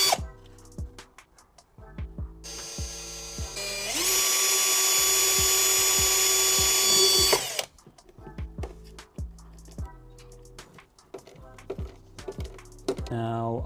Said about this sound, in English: That's why I'm gonna try to screw it in place very well now.